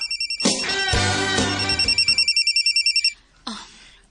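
A telephone rings with a repeating electronic trill, loud and close, over a rising musical sting, then stops before a short breath-like sound.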